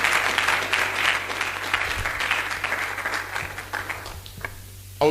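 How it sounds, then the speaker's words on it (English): A congregation at an all-night prayer conference claps for Jesus Christ, a full wash of crowd applause that gradually thins and fades toward the end. "Come on, let's clap for Jesus Christ."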